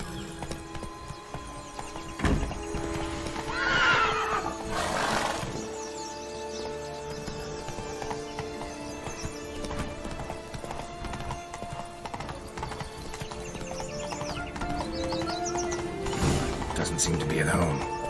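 In the Witcher 3 video game, a horse gallops with steady, rhythmic clip-clopping hooves and an occasional neigh, close and continuous over background game sounds, with a voice at moments.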